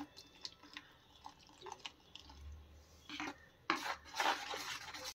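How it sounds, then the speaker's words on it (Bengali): Gram flour batter with salt, red chilli powder and a pinch of baking soda is stirred with water in a bowl. Quiet, wet scrapes and soft clinks come in irregular strokes, with a couple of louder sloshes near the end. "এরপরে এটাকে জল দিয়ে দিয়ে নাড়বো"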